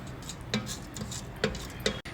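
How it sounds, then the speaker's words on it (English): A spoon stirs semiya payasam with milk and sugar in a Solara Magic Pot, giving a few sharp, close metallic clinks against the pot over a soft background. "We'll give it a good stir."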